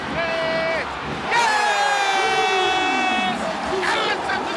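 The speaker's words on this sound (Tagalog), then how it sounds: "listen to the crowd roaring in!" Basketball fans roar in an arena after a three-pointer, a loud sustained crowd swell with individual shouts and whoops rising above it. Players or fans yell close by within the noise.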